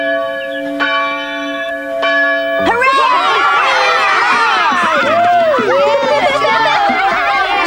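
A school bell rings at the end of term, bright sustained tolls, followed by a noisy crowd of children running and shouting over the fading ringing.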